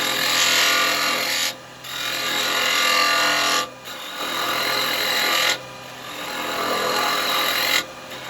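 A carbide chisel cuts hardwood spinning on a wood lathe while a three-cornered lidded box is being turned, giving a steady loud scraping hiss in four long passes separated by brief pauses.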